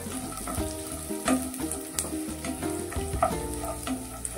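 Peanuts frying in oil for a tempering, a close, crackling sizzle with light stirring clicks throughout, under faint background music.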